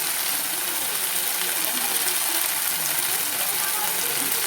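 Onions fry in oil with cumin and turmeric powder for a whole-potol kosha, giving a loud, dense, unbroken sizzle that holds steady throughout.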